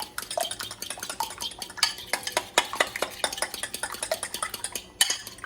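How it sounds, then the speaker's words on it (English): Eggs whisked in a bowl with a utensil, a quick series of close, clinking taps against the bowl's side in an uneven rhythm, heard alone with no talking. "We're just going to whisk those eggs together till they're whisked really good."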